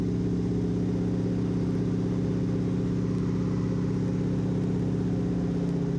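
T-6 trainer aircraft's radial engine at reduced throttle in flight, a loud, steady droning hum with dense low harmonics heard from the cockpit, no talk over it.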